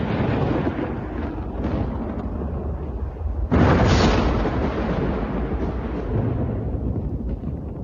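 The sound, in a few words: thunder sound effect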